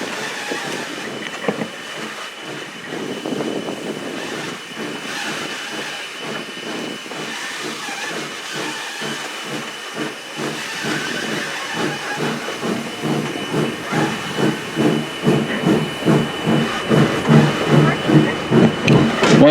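Virginia and Truckee No.29 steam locomotive, the 'Robert C. Gray', hauls a train through a canyon, its chuffing exhaust building into a rapid, regular beat that grows louder and closer toward the end, with hiss and rail noise beneath.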